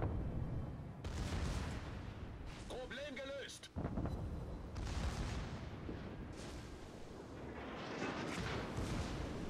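Battleship guns fire HE shells in the World of Warships video game: heavy, rumbling booms and blasts roll on almost continuously, loud and dense, with a voice talking over them.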